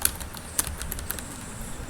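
Python code is typed on a computer keyboard in quick, close, irregular key clicks with a few sharper taps standing out over a steady low room hum.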